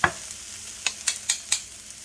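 Aromatics light-browning in hot cooking oil for hoisin lobster: a soft steady sizzle broken by several sharp scraping stirs of a utensil in the pan, close and clear with no talking.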